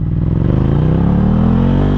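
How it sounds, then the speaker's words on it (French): A Ducati Monster 797 A2 motorcycle rides along with a steady, loud engine drone whose pitch climbs gradually as it accelerates, filling the whole stretch continuously. "Et voici donc la Monster 797 en A2 de chez Ducati."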